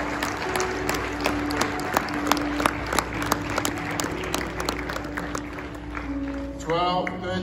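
Sustained applause from a large church audience as people make their way down to the front, with many hands clapping steadily over a crowd murmur and a sustained organ-like tone; the clapping thins near the end.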